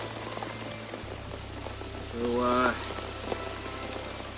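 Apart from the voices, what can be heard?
heavy rain pouring down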